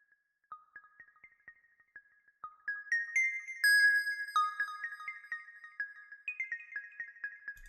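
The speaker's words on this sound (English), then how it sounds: "Then on top of that piano there is this plug melody," A bright synth pluck preset plays a quick melody of short, tinkling notes, starting sparse and soft and then building into a busier, louder run, heard alone.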